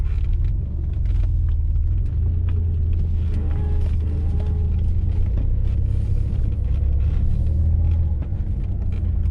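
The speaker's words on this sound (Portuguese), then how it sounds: "A Alfa Romeo V6, e é o V6 Busso" Low, smooth rumble of an Alfa Romeo 164's V6 Busso engine running steadily, heard from inside or near the car, with an even hum and no talking.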